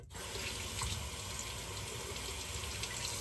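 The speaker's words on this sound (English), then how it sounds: "I'm gonna do a quick rinse and I'll be right back" A tap runs in a bathroom sink for a quick rinse during a shave, a steady close gushing stream of water that stays even for the whole few seconds, with no talking.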